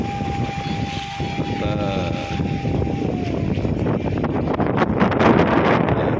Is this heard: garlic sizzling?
no